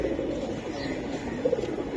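Silver Giribaz pigeons, a pair, coo in a low, continuous murmuring drone close by, with a slightly louder burst near the middle.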